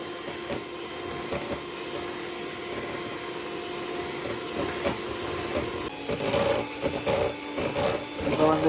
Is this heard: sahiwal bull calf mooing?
no